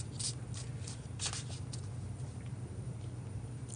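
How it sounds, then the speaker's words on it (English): A deck of cards is given a bridge shuffle close by, with a steady riffling patter and a few brighter flutters and snaps running throughout. "Make sure this deck is shuffled, good and shuffled"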